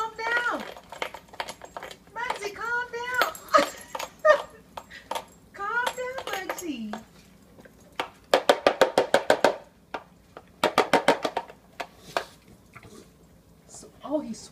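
A small dog eats Royal Canin Urinary SO dog food while people talk and a child chatters nearby; wet chewing and rapid crunching bursts come up close in short runs later in the clip.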